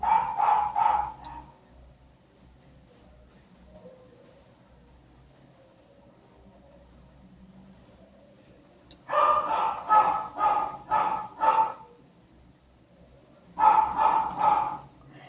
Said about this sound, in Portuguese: você desculpa esse cachorro latindo no fundo